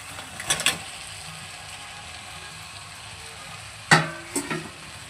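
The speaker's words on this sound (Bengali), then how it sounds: "চিংড়ি মাছটা দিয়ে চিংড়ি মাছটার সাথে একটু মশলাটাকে নেড়ে চেড়ে নেবো" Prawns frying in a pan with spices, mustard paste, onion and garlic, a soft steady sizzle broken by a few scraping clinks of a stirring utensil near the start and again near the end.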